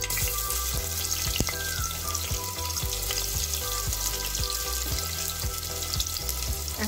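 Onion frying in a hot pan with cloves, bay leaf and cardamom gives a steady, close sizzle broken by occasional light clicks of stirring, with no voices.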